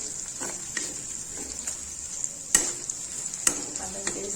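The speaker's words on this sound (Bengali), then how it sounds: "আদা পেস্ট দিয়ে নেড়ে নিয়ে" Ginger paste stirred and fried in ghee and white oil in a kadai, a steady close sizzle with scraping stir strokes and a couple of sharper clanks of the spoon against the pan.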